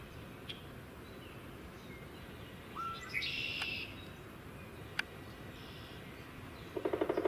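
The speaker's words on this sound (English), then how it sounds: "I just heard a veery." A veery sings a brief fluted phrase from a distance, faint against quiet woodland ambience, with a few other soft chirps and taps around it.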